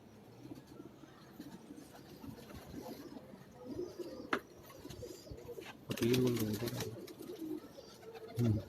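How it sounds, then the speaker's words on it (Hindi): Fakir Gul pigeons coo on a Karachi rooftop, soft low repeated calls rising in bursts around the middle and end amid steady outdoor background noise. "फकीर गुल कबूतर है ये।"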